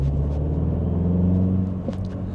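A 2025 Mini Cooper JCW Hardtop 2 Door heard from behind the wheel under gentle acceleration: a steady, close engine drone with a low rumble that holds evenly throughout.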